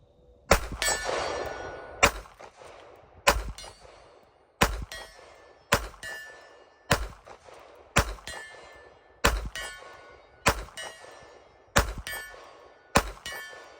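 Shots from a custom Springfield Prodigy DS 1911 ring off steel targets outdoors, a dozen sharp metallic clangs spaced about a second apart, each leaving a short fading ring.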